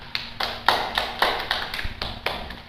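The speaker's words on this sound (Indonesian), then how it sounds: "Beri tepuk tangan untuk kelompok 2." Classroom applause for a student group, a handful of sparse, uneven hand claps from a small group, fairly close and light, lasting a couple of seconds.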